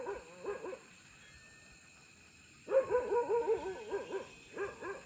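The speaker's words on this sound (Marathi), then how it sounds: "आज पण कुत्रा भुकतय या साईडला." A dog barks in the dark outdoors beside a farm with cows, giving a short burst of barks, pausing, then a longer run of repeated barks, moderately loud at mid distance.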